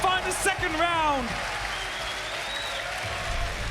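Crowd applause and cheering at a Rainbow Six Siege esports match at the Berlin Major 2022, a burst of clapping and shouts that settles into sustained arena noise, heard together with a voice talking.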